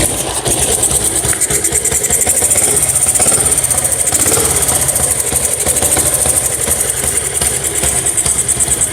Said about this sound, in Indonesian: Ini coba saya cek sound kan mas ya motornya. AYS tahun 1954 yang 500 cc itu gimana sih rasanya?